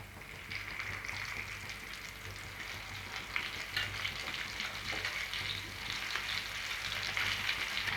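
Sweet potato cutlet sizzling steadily in hot oil in a pan after being flipped, a continuous moderate frying hiss with no voices.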